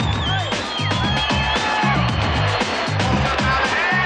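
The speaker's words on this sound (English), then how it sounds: "The crowd just lap it up." A 1993 BMX contest crowd cheers and whoops after a backflip, a loud, sustained roar with whistles over rhythmic pounding music.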